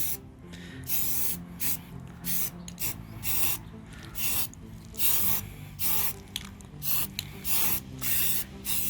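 A spray can lays a light coat of paint on a cleaned OBS Ford F-150 fuel tank outdoors on a slightly windy day: a string of short hissing bursts, about a dozen, close by, with brief pauses between.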